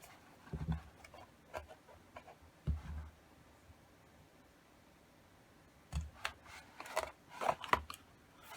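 Scissors snip through paper while holes are cut for a 2021 planner, a few quick close clicks in small bursts separated by quiet pauses, with no talking.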